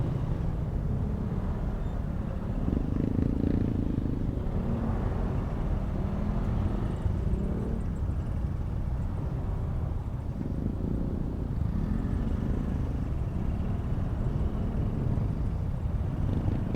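Rush-hour road traffic heard from a Honda Wave RSX motorcycle on a cemented road by an open canal in Imus, Cavite at night: steady loud engine drone with wind rumble and surrounding vehicle noise, no talking.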